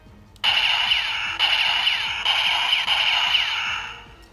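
A DX Breakgunner toy blaster fires a steady electronic zapping burst with bright buzzy tones and repeating sweeps, re-triggered every second or so, then fading away.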